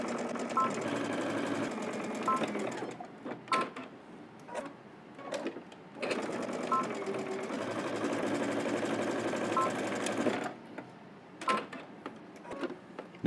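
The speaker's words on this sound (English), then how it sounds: "head to the machine, and we're just going to stitch across both sides using 5/8 of an inch seam allowance" A sewing machine stitches fabric seams in close, steady mechanical runs, pausing briefly between bursts with small clicks and handling sounds, quiet overall.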